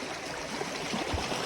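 River water rushing in Purti Khola where someone is bathing, a continuous loud, close broadband stream noise with a few small gurgles and splashes, and no voices.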